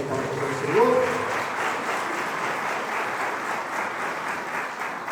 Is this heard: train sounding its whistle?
no